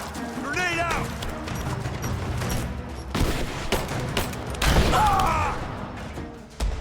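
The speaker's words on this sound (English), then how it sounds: "Grenade out!" Rise of the Tomb Raider combat: bursts of gunfire and a grenade explosion with crashing impacts, loud and close, mixed with shouted voices of in-game characters.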